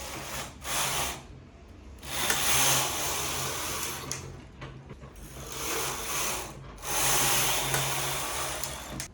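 A knitting machine carriage is pushed back and forth across a sweater's rows, giving repeated whooshing, clattering sweeps every couple of seconds with quieter mechanical rattling between passes. No voices.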